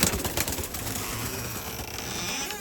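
Breeding pigeons in a loft, a short burst of wing flapping and fluttering at close range with faint cooing and rustling behind.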